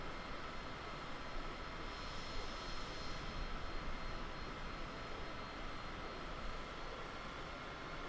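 A Cessna Citation CJ4 business jet roars steadily in Microsoft Flight Simulator, a constant broadband engine drone at moderate level with no speech.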